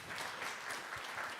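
Audience applause for a speaker at the Safaricom Safire Connect event in Nairobi: a short, steady burst of many hands clapping, fairly close, with no talk over it.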